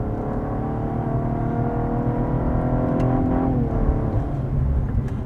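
A Cadillac ATS-V sedan's turbo engine pulls hard under acceleration, a steady rising drone with layered harmonics climbing in pitch, heard from inside the car and loud throughout.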